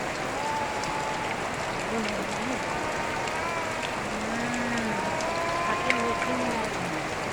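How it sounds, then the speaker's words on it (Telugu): Constant heavy rainfall pours down in a thick, even hiss, while faint voices or tonal sounds come and go beneath it. "వర్షం చూడండి ఎంత పడుతుందో"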